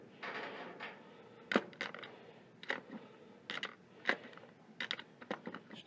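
Metal lock washer and bolt handled on a Grasshopper 225K mower spindle, giving a string of sharp, close metallic clinks and light taps spaced irregularly over a quiet background, with no talking.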